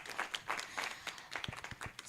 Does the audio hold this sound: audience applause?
yes